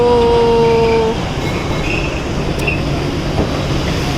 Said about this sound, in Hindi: मतलब मेट्रो पे जाएंगे